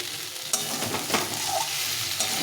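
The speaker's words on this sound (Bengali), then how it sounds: "এটা ভালো করে একটু কষে নিতে হবে এইভাবে সুন্দরভাবে কষে নিয়েছি তেল ছেড়ে দিয়েছে" Yam and potato curry sautéing in oil in a pan, with a continuous close sizzle and a few sharp scrapes of a spatula stirring the thick mixture, no talking.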